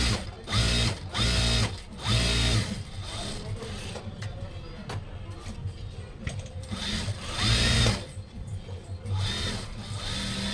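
A sewing machine stitches a doctor's coat in repeated loud, close mechanical bursts of rapid clatter, separated by quieter pauses with handling noise and a voice speaking faintly.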